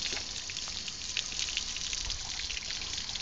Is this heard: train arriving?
no